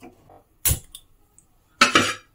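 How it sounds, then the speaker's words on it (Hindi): An iron tawa griddle set down onto a gas stove in a home kitchen, giving two sharp metallic clanks about a second apart, close and fairly loud, with faint murmuring beforehand. "और एक तवा रखेंगे।"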